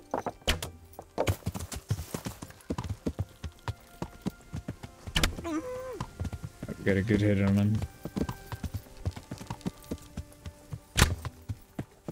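Horse hooves clatter through woodland in Kingdom Come: Deliverance, an irregular run of sharp near thuds mixed with game effects. Someone talks over part of it.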